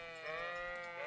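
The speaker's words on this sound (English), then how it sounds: "Oh, sheep!" A sheep bleats in the medieval video game Kingdom Come: Deliverance, one drawn-out wavering call heard close and clear, alone, over a faint background.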